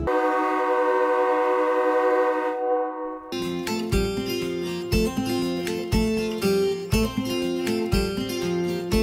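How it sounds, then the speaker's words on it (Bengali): A long, loud train horn sounds, then the Vande Bharat Express departs and rumbles along with rhythmic clattering and recurring tonal blasts, steady and close. "ভোর 5:55 7 নম্বর প্ল্যাটফর্ম থেকে অন টাইমে ছেড়ে দিয়েছে আমাদের বন্দে ভারত এক্সপ্রেস"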